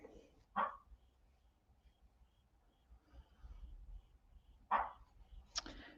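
A dog upset at being left outside and wanting to be let in gives two sharp barks, several seconds apart and fairly distant, with quiet room tone between them.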